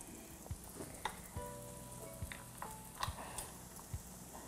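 A batch of food fries in a pan with a steady, close sizzle and scattered small pops and ticks, with no talk.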